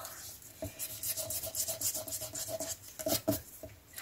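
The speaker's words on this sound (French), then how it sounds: "Non, je vais gommer parce que ça va pas me plaire." A pencil eraser rubs back and forth on paper in quick, soft, scratchy strokes, close up and faint, ending with a few sharper brushing swipes.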